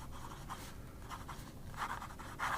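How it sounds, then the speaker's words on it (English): A fountain pen nib writing on paper gives soft, faint scratchy strokes in short irregular bursts, close and quiet with no talk. "as I write with the pen, the nib is beautiful"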